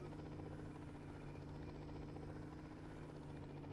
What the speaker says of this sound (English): Turbocharged helicopter.